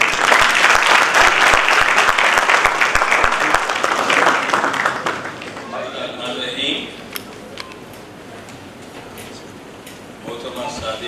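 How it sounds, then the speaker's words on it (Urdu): Audience applause fills a formal hall in Islamabad as a retired lieutenant general is invited to the stage, dense clapping for about five seconds before thinning into scattered claps and room noise. "بھرپور تالیوں میں دعوت دیتی ہوں محترم جناب لیفٹیننٹ جنرل معین الدین حیدر صاحب کو کہ وہ اسٹیج پہ آئیں"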